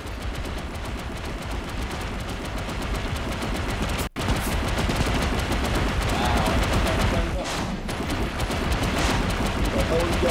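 Video game gunfire in a multiplayer match, a dense, continuous barrage of loud, rapid shots with automatic bursts that fills the whole stretch, with a brief cut partway through and players talking over it.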